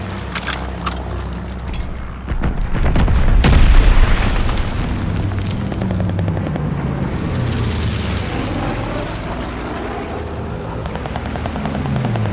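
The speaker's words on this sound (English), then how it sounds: "Friendly bombing run on the way." Bombing run explosions in the video game Call of Duty Vanguard: a heavy, rolling boom swells around the third and fourth second over a constant roar of aircraft and battle noise, with scattered sharper pops before it.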